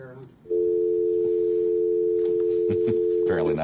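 A steady telephone dial tone sounds on a phone line while a call is being placed, holding loud and unbroken for about three seconds, with brief clicks and a murmur of talk near the end.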